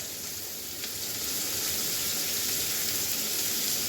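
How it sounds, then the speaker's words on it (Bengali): Chopped tomato frying in a pan for chicken bharta, a steady, close crackling sizzle that swells slightly after the first second and holds evenly. "টমেটো কুচিটা এই যে কেটে রেখেছি এটা দিয়ে দেব। একটু ভাজা হোক।"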